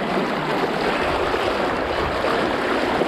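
A strong river current rushing past a banana-trunk raft drifting downstream, a dense, loud, continuous watery roar that stays steady throughout.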